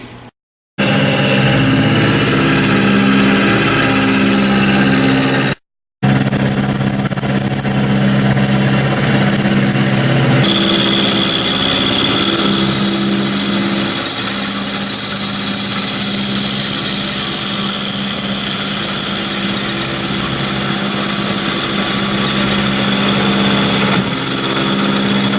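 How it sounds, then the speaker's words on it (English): A metal lathe or mill runs steadily while cutting the outside profile of a metal adapter for mating a diesel engine to a Jeep transmission, a loud continuous machine drone with a shifting high whine, broken by two brief dropouts near the start. "So I'm going to machine this outside profile, then do the inside."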